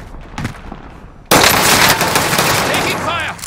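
Rapid automatic gunfire erupts in Call of Duty: Modern Warfare, a loud sustained burst after a short quieter lead-in with distant shots.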